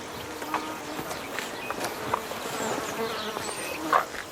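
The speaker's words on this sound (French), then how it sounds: "dehors, des tourbillons d'insectes tourmentent les animaux" Swarms of insects buzz around farm animals outdoors, a faint, continuous droning with several closer fly-bys swelling and fading, over a low background.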